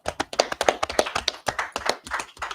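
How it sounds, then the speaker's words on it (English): A congregation claps during a Sabbath church service, a fast uneven run of sharp close handclaps with short gaps between bursts. "saying clap it up for that."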